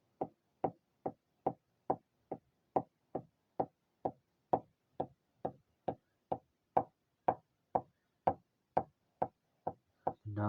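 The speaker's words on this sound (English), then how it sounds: "The knocking." Steady knocking, about two sharp hard raps per second, repeated over twenty times at an even pace, clear and close with nothing else behind it.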